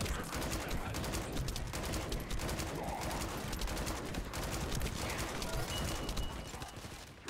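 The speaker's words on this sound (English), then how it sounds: "Too many people are shooting at me." Rapid automatic gunfire in The First Descendant, a shooter video game: dense, continuous bursts of shots overlap and rattle throughout, with several weapons firing at once and faint game effects underneath.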